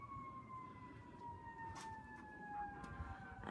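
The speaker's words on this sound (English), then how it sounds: "Sirens are going off." Emergency sirens wail outdoors at a distance, a steady sweeping tone carried over a rumbling background of traffic and wind on a building site.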